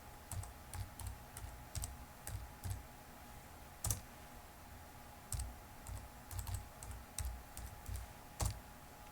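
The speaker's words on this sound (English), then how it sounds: "Type yes in all capital letters, and type in your passphrase." Keys clack on a computer keyboard as a passphrase is entered for Linux file system encryption, in short irregular bursts of crisp taps with brief pauses, close and fairly quiet, no voice.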